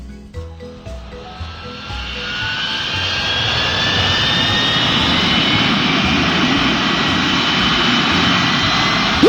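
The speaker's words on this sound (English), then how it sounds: "We will take off soon." An airplane in a children's transportation video game powers up and takes off, its jet engine roar rising steadily into a loud, sustained whoosh after a few brief cartoon sound effects at the start.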